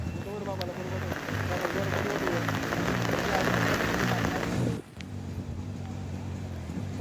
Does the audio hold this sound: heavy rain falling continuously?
yes